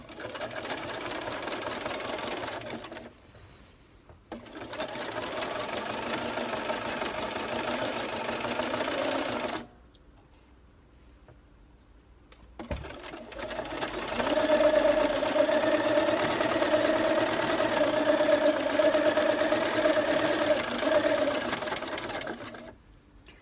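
A sewing machine sews along the corded edge of lace on a dress hem, running in close, steady bursts with short pauses between them, the last run the longest and loudest.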